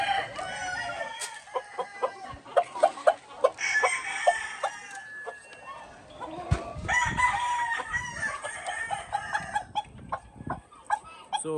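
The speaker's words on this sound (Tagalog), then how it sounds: "So ito yung mga white leghorn natin." White Leghorn hens cluck busily while a rooster crows on a poultry farm, a dense, continuous barnyard chorus, loud and close, with no talking over it.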